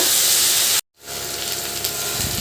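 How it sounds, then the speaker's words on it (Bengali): Jackfruit and paneer fry in a hot pan, a loud steady sizzle and hiss that cuts out for a moment partway through and then returns and carries on to the end. "তো চলো এখন এটা আবার ভালো করে মিক্স করে ভালো করে ভাজা ভাজা করব।"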